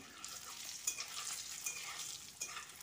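Boiled eggs fry softly in a pan with turmeric and red chili powder for egg biryani, a faint hiss with light stirring scrapes, quiet and close.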